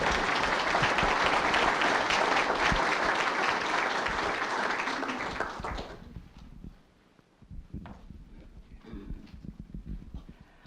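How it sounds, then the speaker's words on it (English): A round of applause for the directors at a board of directors meeting: dense clapping from a gathered group for about six seconds, then it cuts off, leaving a quieter room with faint scattered movement. "Let's give these directors a round of applause"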